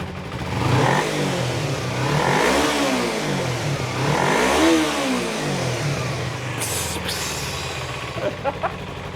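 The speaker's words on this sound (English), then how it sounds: "Give me a couple revs, or give the people a couple revs." A twin-cylinder Ninja 250 Turbo motorcycle engine revs up and down in a few rising and falling surges, loud and close, before easing back toward idle.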